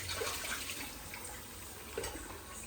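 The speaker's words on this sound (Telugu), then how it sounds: "చేతులు కడుక్కొని" Water runs steadily from a tap nearby, a continuous splashing rush with small bursts as hands move under the flow.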